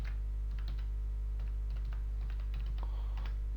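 Someone types a note on a computer keyboard while annotating a SolidWorks drawing, tapping out short bursts of light, close key clicks over a steady low background hum.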